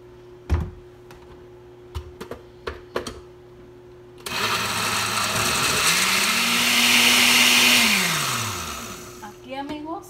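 A blender whirs loudly through apricots for apricot water after a few kitchen clicks and knocks, its motor pitch climbing and holding steady before winding down, with a voice speaking at the end.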